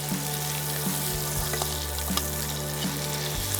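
Boiled turnip pieces frying lightly in a pan, a loud continuous sizzle close by, with scraping stirs repeating at a regular beat.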